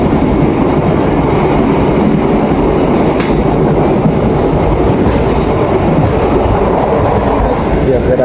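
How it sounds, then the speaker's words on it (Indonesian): Heard from onboard, the Wijaya Kusuma passenger train runs at 100 km/h, a loud, continuous roar of rolling wheels with steady clickety-clack over the rails. "kereta api Wijaya Kusuma sedang berlari di angka 100 km per jam"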